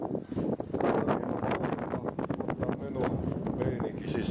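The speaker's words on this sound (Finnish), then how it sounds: "Tuuli on navakka ja tuskat heiluu" Strong wind buffeting the microphone outdoors near water, a rough continuous roar with gusty surges, while people talk over it.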